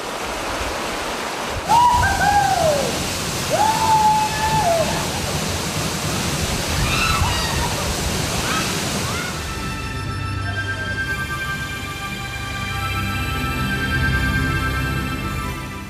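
Steady broadband roar of the large waterfall at Madhupkundo in Bangladesh, continuous and full, with a few brief whistling tones early on over the rushing water.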